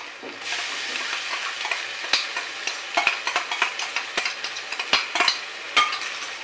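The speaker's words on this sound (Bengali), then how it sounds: "এর মধ্যে আবার আদা, রসুন আর কাঁচা লঙ্কা শুধু বাটা দিচ্ছি" Onions browned in oil hiss and sizzle in a pan as ginger, garlic and green chili paste go in for a chicken korma, with steady frying noise broken by frequent sharp clinks and scrapes of a spatula stirring against metal.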